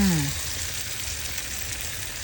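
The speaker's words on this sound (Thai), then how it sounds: "น้ำมันร้อนแล้วใส่หอยลงไป แล้วก็เห็ดนะคะ ลงไปทอดให้ร้อนก่อน จากนั้นก็ราดไข่ลงไปเลยค่ะ" Mussels, mushrooms and egg frying in hot oil in a pan, a loud steady sizzle close up that fills the whole moment, with a brief low clatter at the start.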